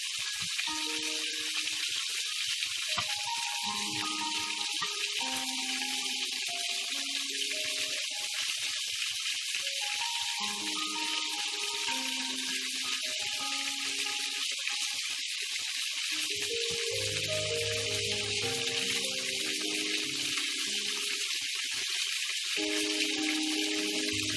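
Zrazy meat rolls made from pork neck with mushrooms fry in a pan, giving a steady, dense sizzle and crackle throughout, close and fairly loud, with faint clinks of handling underneath and no talking.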